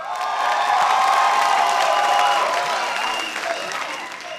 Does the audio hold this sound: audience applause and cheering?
yes